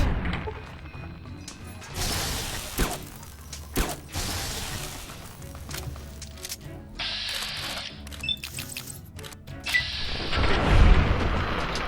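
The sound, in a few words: grenade explosions from enemies in the video game Fallout: New Vegas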